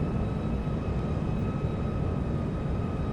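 Steady, loud broadband roar of a Lockheed L-1011 airliner's engines in Flight Simulator X, rolling slowly near Mexico City, with faint tonal whines riding over a continuous low rumble and no talking.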